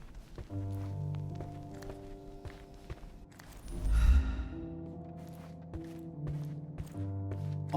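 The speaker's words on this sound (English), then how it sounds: "I heard footsteps upstairs a second ago" Footsteps sound in Sherlock Holmes Chapter One, a series of distinct, evenly spaced taps over tonal background music, with a louder thud near the middle.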